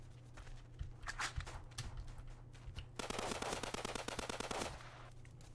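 Gunfire in the online shooter Blockpost: scattered single shots, then a fast burst of automatic fire, all fairly quiet.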